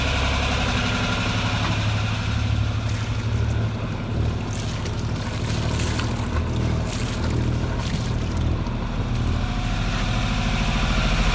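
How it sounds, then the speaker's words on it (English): A boat's engine idles in neutral, a loud steady low throb with washing water and wind noise over it, running unbroken without talk. "the engine goes back to idle and it continues to run"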